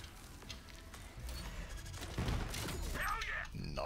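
An ion cannon fires in Borderlands 3, a loud, dense burst of game weapon blasts and booms that swells through the second half amid chaotic battle noise.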